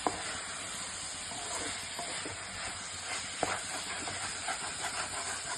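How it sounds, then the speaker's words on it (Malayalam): Chicken curry is stirred in a frequently used home pan, a soft steady hiss of cooking with occasional faint scrapes and one sharp clink, no voices. "നമുക്ക് നന്നായിട്ടൊന്ന് ഇളക്കി നന്നായിട്ട് നന്നായിട്ട് മിക്സ് ചെയ്യണം"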